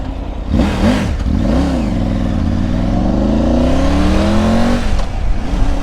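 A BMW R 1250 GS adventure motorcycle pulls hard on the road with the quick shifter. Its engine note climbs in pitch, dips briefly at each gear change and climbs again, loud and close.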